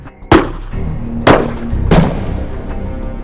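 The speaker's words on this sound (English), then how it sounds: "We're going to try our Apex threat. That's .44 Magnum, 240 grain, semi-jacketed hollow point at contact." Three sharp, loud .44 Magnum reports, 240 grain semi-jacketed hollow point rounds fired at contact distance into soft body armor, each followed by a short decaying echo with brief gaps between.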